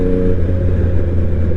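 A Triumph Street Triple 765 RS motorcycle with an aftermarket exhaust rumbles with a loud, steady low engine drone, close by and without speech.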